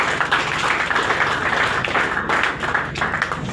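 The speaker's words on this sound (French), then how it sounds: "Est-ce qu'on peut applaudir pour ça si vous êtes de l'ANC?" A political audience applauds throughout at an ANC anniversary gathering for Senator Basengezi, with steady, dense clapping that holds at one level from start to end.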